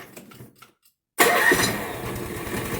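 Near silence, then a 1990 Lincoln Town Car engine catches abruptly and settles into a loud, steady idle rumble, in snowy conditions.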